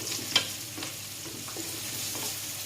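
Stingray pieces frying with spices in a pan, a soft steady sizzle under occasional scrapes and clinks of a stirring utensil, close but quiet, with no talking.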